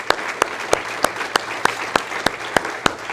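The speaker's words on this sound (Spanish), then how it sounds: "Denle un aplauso a nuestro Dios Todopoderoso." Sharp hand claps ring out at an even, rhythmic pace, about three per second, over a bed of crowd noise at a church service.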